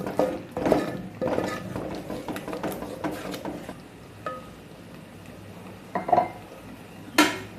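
A spoon scrapes and clinks against a metal pan while spices with red chili powder and salt are stirred and sautéed for a fish curry, with irregular close metallic knocks and softer scraping between them.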